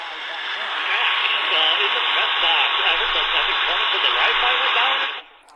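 A Supersonic SC-1080BT radio tuned to 1670 on medium wave gives off a steady band of static hiss with faint warbling, running continuously before cutting off abruptly near the end.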